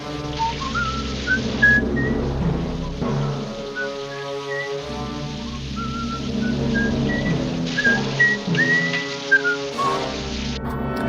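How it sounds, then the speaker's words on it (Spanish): Cary Grant whistles a melody in bright phrases over a soft instrumental background with a rain-like hiss, the melody rising and falling clearly, in North by Northwest. "Cary Grant está silbando una melodía que a muchos nos será familiar"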